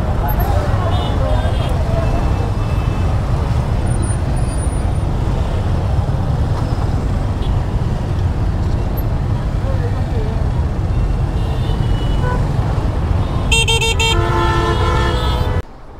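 Dense traffic jam on the Jamuna Bridge during Eid travel, with a steady roar of engines and road noise and repeated car and bus horns honking, a cluster of loud blasts near the end, while a rider talks over it.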